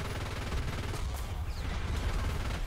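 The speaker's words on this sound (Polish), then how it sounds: "Próbuję strzelać z działa, no ale większe korzyści daje mi strzelanie z KM-u." Tank cannon and machine gun fire in War Thunder, a rapid, steady stream of close gunfire bursts with heavy low thumps running the whole way through.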